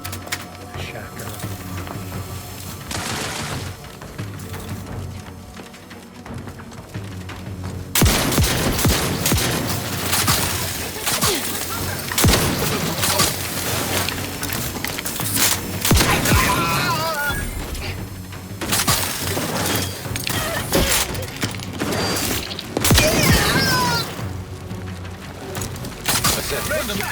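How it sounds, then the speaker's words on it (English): Shotgun fire in The Outer Worlds 2 sounds as a rapid run of sharp, loud blasts and crashes after a quieter opening, with dense impacts layered over game ambience. "Shotgun."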